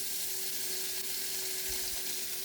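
Small sardines frying in hot oil, giving a steady, even sizzle with a constant hiss and a faint hum, heard close with no talking over it.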